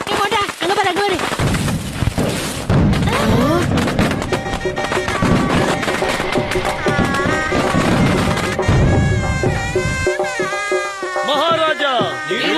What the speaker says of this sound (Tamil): ஆஹா, வான வெடிக்க பிரமாதமா இருக்குல்ல